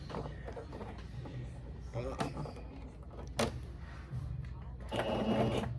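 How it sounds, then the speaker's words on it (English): A sewing machine stitches a tutu skirt in a steady mechanical whir that rises and falls as it runs in short bursts, with a person talking over it throughout. "I'm gonna start sewing the skirt"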